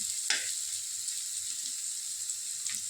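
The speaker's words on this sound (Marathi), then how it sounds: "यामध्ये थोडीशी जागा करून जिरे तळून घ्यायचे आपल्याला तेलामध्ये" Cumin seeds fry in oil in a pan for kanda poha, making a steady close sizzle with a couple of brief scraping stirs.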